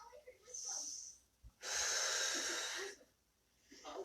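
Close breathing during a yoga session: a long, airy breath with a wheezy hiss, then soft nasal sounds, with a faint voice in the background.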